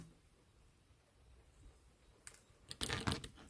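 Wire cutters trim jewelry wire short while making wire-wrapped starburst earrings, giving a few faint, close, crisp snips and clicks after a quiet stretch.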